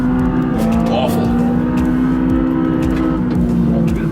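Racing car engine in a driving game, a loud continuous high revving drone with shifting pitch, steady throughout with people talking and reacting over it.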